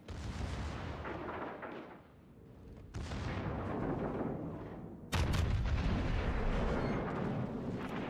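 Heavy naval guns from British and American battleships in a video game fire loud booming salvos, each followed by a long roaring decay, with the loudest blast near the end and no talking.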